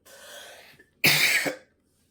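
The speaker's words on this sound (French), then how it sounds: "C'est agaçant de tousser comme ça" A muffled throat-clearing rasp from someone who is ill is followed by one sharp, loud cough up close, then quiet.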